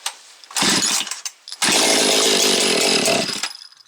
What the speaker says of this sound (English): we got a running saw. Sounds pretty crispy, nice and healthy.